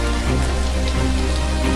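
Video-game rain falls steadily and heavily, a dense even hiss of drops on surfaces that stays loud and unbroken throughout, with no voices.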